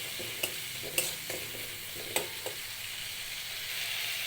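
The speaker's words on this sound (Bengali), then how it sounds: "কষিয়ে নিচ্ছি ভালো করে মশলাটা" A spice paste with chili powder fries in a pan while a spoon stirs it, a steady sizzle broken by a few sharp scrapes and knocks of the utensil against the metal, with no voices.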